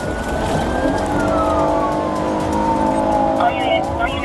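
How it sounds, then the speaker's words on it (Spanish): Police car sirens on an emergency call, wailing tones sweeping up and down loudly and close, layered over road and engine rumble, continuous throughout. "Luces encendidas, sirenas sonando."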